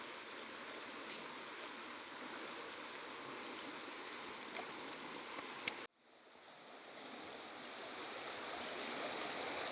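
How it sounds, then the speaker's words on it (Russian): The Black River stream in Sevastopol flows in a steady, soft rush of running water. The sound drops out abruptly partway through, then swells back up gradually, with no talking. "вот это она и называется Черная речка"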